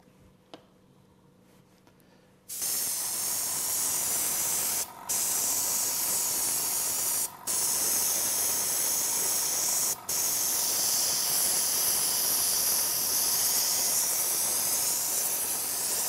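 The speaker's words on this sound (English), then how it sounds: "And then we spray it into the mould." Cocoa butter sprayed into a chocolate mould gives a loud, steady airbrush hiss that starts abruptly after a quiet lead-in and runs continuously. Three brief breaks interrupt it, with no talking.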